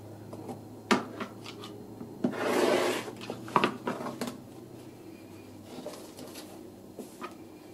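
A 60 mm rotary cutter trims quilt batting and backing fabric, giving one soft rasping cut among scattered clicks and taps, close and fairly quiet.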